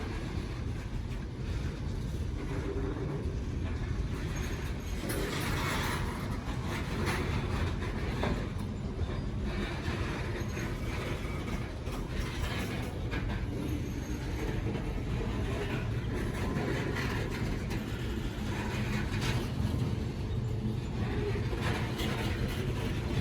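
A long coal freight train from eastern Kentucky rumbles steadily past with continuous low roar and rattling cars, sustained and fairly loud, with wind buffeting the microphone.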